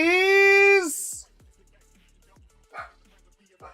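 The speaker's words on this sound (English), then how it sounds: "She did it anyway. She barked anyway." A dog gives a couple of sharp, loud barks near the start, followed by a high yelp and then faint scattered sounds and quiet clicks.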